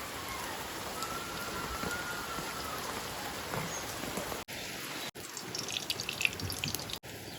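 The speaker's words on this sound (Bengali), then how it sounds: "বৃষ্টিটা কন্টিনিউ হয়েই যাচ্ছে, আজকে আর বৃষ্টিটা বন্ধ হচ্ছে না।" Steady rain falls continuously the day after Cyclone Dana, a dense even patter with brief cuts in the sound and no voices.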